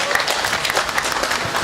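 An audience at a lecture applauds, dense and continuous clapping from a crowd that holds steady through a short stretch.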